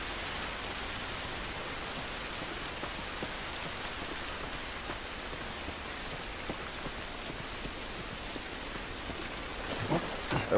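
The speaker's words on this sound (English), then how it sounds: "It's raining" Steady, dense rainfall pours down outdoors in The Last of Us Remastered, a constant hiss of drops on surfaces with low rumbling beneath, holding even throughout and swelling slightly at the very end.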